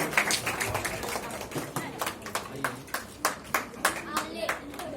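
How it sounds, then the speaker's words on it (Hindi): An audience at a speech event claps to welcome a guest. The clapping is fairly close and falls into a steady rhythmic beat, with voices mixed in underneath. "जोरदार तालियों से स्वागत किया जाए।"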